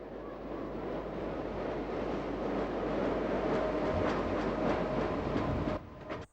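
Suburban train arriving at Clifton Hill station, the junction of the Epping and Hurstbridge lines in 1999: a loud, steady rumble of wheels and motors rolling in, easing off sharply at the end.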